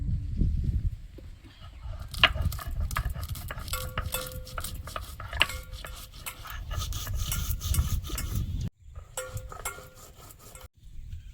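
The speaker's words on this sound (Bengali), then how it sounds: "একটু গোলমরিচ শিলে বেটে নেব।" Black peppercorns are crushed on a traditional stone grinding slab in a home kitchen. The repeated scraping, gritty rubbing strokes of stone on stone carry on steadily, with brief pauses between rounds.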